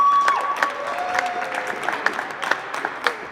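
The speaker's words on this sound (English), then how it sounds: "give it a round of applause." Audience applause at an annual Black Heritage Month Jeopardy competition, a steady wash of many hands clapping with a few cheers rising above it, sustained and fairly loud throughout.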